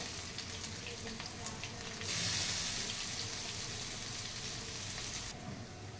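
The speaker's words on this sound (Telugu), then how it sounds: "చూడండి, అల్లం వెల్లుల్లి పేస్ట్ ఫ్రై అయిపోయింది" Ginger garlic paste frying in a pan gives a steady, close hiss and sizzle, swelling brighter for a few seconds midway, with no clear speech over it.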